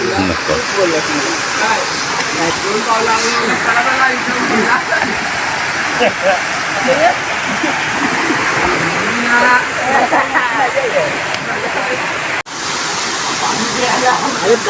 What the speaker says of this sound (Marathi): मे महिन्यामध्ये पाणी वाहत आहे आणि हे धरणाचं पाणी असल्यामुळे खूप बरं वाटतं